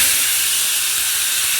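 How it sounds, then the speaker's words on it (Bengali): Black cumin seeds dropped into hot oil for a quick flattened-rice pulao give off a steady, dense hiss that holds evenly throughout, close and fairly loud, with no voices. "এই যে এক চুটকি কালো জিরা নিলাম, আর কালো জিরাটা গরম গরম তেলে দিয়ে দিলাম।"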